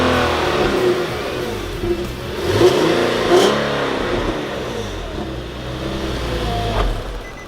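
Infiniti G37 sedan with high-flow cats and a non-resonated Motordyne catback exhaust revving nearby, a loud raspy engine note rising and falling through several throttle blips over about seven seconds.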